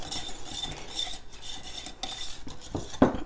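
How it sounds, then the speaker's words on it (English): Potato salad being mixed in a bowl with a utensil, giving soft repeated scraping and clinking strokes up close, with a sharper knock near the end and no voices. "So I'm just gonna mix this up."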